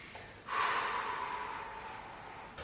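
A single audible inhale through the nose during a chair-based spine mobility exercise, one breath lasting about two seconds, close and alone.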